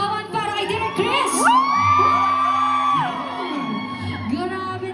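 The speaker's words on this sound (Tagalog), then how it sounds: "Isa bang masigabang palakpakan at sigawan para kay Direk Chris?" A premiere-night crowd at a Philippine adaptation of A Werewolf Boy cheers loudly, with high whoops, shrieks and shouts rising over a dense, steady roar of voices throughout.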